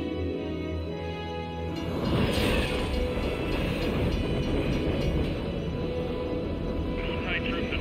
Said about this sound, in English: Outside troops have hijacked Shinra Express Mark 93-2. The train is currently headed to Midgard Sector 8.